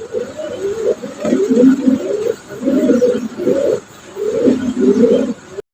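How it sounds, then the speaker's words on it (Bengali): Romagnol pigeons coo steadily in overlapping, throaty phrases that rise and fall with short pauses between them. The birds sound close and fairly loud. "আজকের ভিডিওর 5 নম্বর কবুতর রোমাগনাল রানিং পেয়ার"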